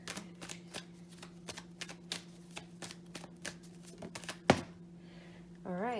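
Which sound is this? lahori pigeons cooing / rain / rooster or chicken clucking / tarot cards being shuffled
tarot cards being shuffled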